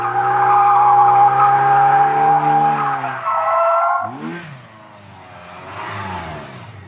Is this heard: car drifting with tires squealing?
yes